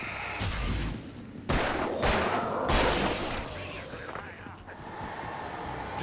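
Flare gun fired in the Alan Wake video game, with a loud burst of bright hissing flare blasts over booming impacts and rumbling combat noise, while a voice speaks underneath.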